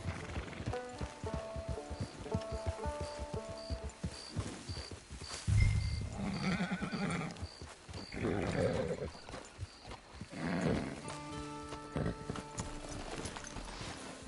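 Horse hooves clip-clop at a steady trotting rhythm in the Red Dead video game, close and fairly loud over game music, with a few louder bursts midway that may be the horse neighing.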